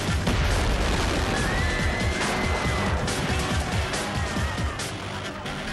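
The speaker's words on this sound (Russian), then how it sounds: "а статуя взрывается, превратившись в пылающий огненный шар, выстреливая куски дерева и осколки" A wooden statue set off by a chain of firecrackers bursts into a fireball amid a crowd of revellers, heard as a dense, loud continuous roar and crackle with sharp pops and debris, steady throughout.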